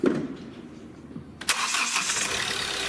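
Car with a variable-geometry turbo engine starting: a cranking sound, then the engine catches abruptly and settles into a steady, fairly loud idle close by, with no talk.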